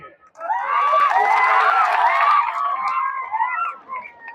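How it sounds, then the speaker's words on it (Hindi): A loud crowd at a Durga Puja committee's village stage show in Pachpakdi bazaar cheers, whoops and claps continuously for several seconds, with children's shouts mixed into the noise. "इतना कम ताली फुलवरिया घाट के लिए"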